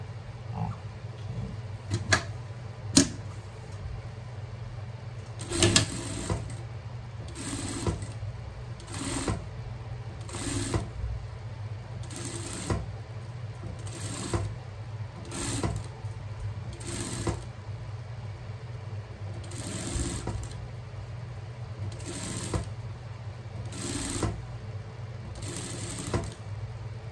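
A sewing machine stitches a fabric hem in short repeated bursts over a steady low hum, each run of stitching starting and stopping at a fairly regular pace, close and clear with no talking.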